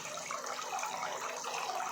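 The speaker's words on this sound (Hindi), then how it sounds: "ये आपको कल कल झरने की आवाज़ सुनाई दे गई होगी" Water gushes steadily from a fountain waterfall at a Shiva linga shrine, a dense, continuous splashing rush close by with no pauses.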